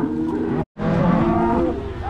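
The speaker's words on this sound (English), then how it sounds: "when you're moving cows like this" Cattle mooing continuously while being driven along a road by cowboys with working cow dogs, a dense herd of bellowing cows close by, broken only by a brief silent gap.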